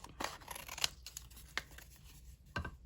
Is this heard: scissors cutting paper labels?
yes